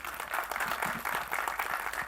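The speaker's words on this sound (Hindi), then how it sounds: "तालियां।" An audience at a trailer launch event claps in a brief, dense, fairly soft burst of applause with no voices over it.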